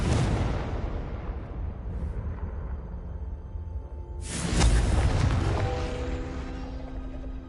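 A Confringo explosion spell in a Harry Potter video game, a deep rumbling boom that swells midway with a sharp broadband burst, then rolls off into a long decaying tail over a low ambient game rumble.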